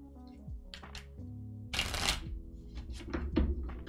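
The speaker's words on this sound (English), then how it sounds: "So I'm gonna shuffle." Crisp riffling and snapping of playing cards being shuffled, a rapid burst in the middle with lighter card flicks before and after, close up.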